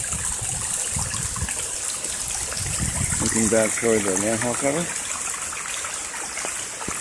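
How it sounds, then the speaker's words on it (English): Water flows through backyard drainage along a fence in a faint, steady rush, with someone briefly speaking over it midway. "The dramatic water flow."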